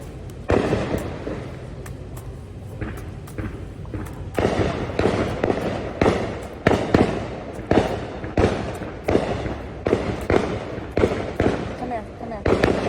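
Fireworks go off repeatedly, loud sharp bangs and crackling bursts in an irregular series over about thirteen seconds, with people speaking between the blasts.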